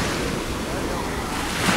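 Sea surf rolls onto a crowded beach at Alanya, Turkey, on a hazy September day, a steady broad wash of breaking waves with wind across the microphone.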